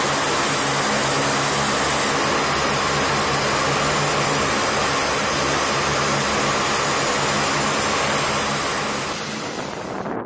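US Air Force B-52H Stratofortress heavy bomber jet engines roar in a loud, continuous broadband rush with steady humming tones underneath, holding constant before easing slightly at the very end.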